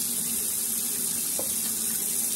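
A kitchen tap runs steadily into a sink as cold water rinses freshly made butter, a constant loud hissing flow with one faint clink partway through.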